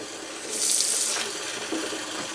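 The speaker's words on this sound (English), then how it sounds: "you see all the water's coming through the mouthpiece now" Water runs through the mouthpiece of an S10 gas mask into a sink, giving a steady close hiss and splatter that swells briefly and then stays even, with no talking.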